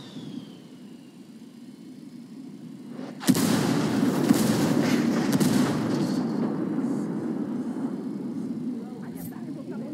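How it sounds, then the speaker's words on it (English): An artillery strike lands in Ghost Recon Wildlands with a sudden loud impact, followed by several seconds of sustained rumbling blasts and debris that slowly fade, rising over a low steady engine drone. "I'm calling for indirect fire."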